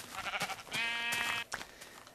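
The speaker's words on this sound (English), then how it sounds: "And I see another sheep over here. Hello, sheep." Sheep bleating in the Minecraft video game: a sustained, loud, wavering bleat in the middle, with shorter game sounds before and after, with no talk over it.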